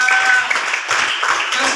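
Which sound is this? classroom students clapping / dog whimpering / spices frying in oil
classroom students clapping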